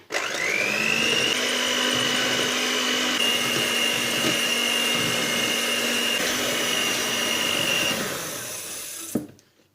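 Electric mixer beating eggs with sugar and vanilla for waffle batter, a steady loud whirring drone held for about eight seconds before winding down and stopping.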